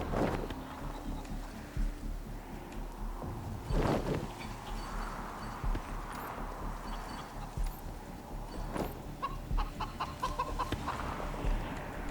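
Chicken clucking in the video game Wasteland 3, a series of short, fairly close clucks and squawks that pop out over a busy bed of game ambience and scattered hoof-like clip-clop sounds.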